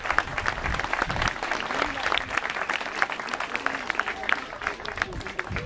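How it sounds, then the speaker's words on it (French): An audience at a 14 July civic reception applauds the performers, sustained dense clapping with a steady crowd texture throughout, fairly loud and close. "vous pouvez les applaudir de nouveau."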